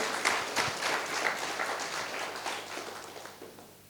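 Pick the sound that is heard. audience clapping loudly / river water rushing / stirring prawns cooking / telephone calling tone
audience clapping loudly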